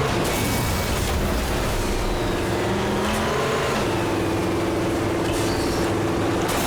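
A big rig truck's engine drones steadily and loudly while racing a rough course in the MotorStorm video game, with shifting revs and no break throughout.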